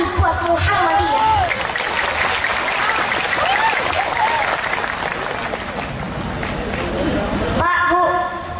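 Audience applause at an Indonesian child preacher's sermon event: dense, steady clapping fills the room for several seconds, with a speaking voice at the start and again as the clapping fades near the end.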